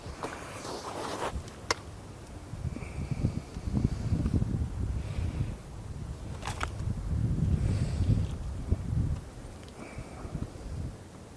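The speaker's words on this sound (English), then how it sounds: "See, it's breezy out here." Breezy outdoor wind blows steadily around a small burning dry bracket fungus stove, a continuous low rumble of gusts against the microphone that swells and fades, with a couple of sharp ticks and faint rustling mixed in.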